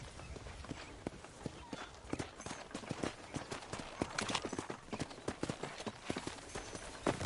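Horse hooves clop along as a rider moves across a ranch in the video game Red Dead Redemption, a fairly quiet, rhythmic string of hoofbeats that grows busier and firmer toward the end.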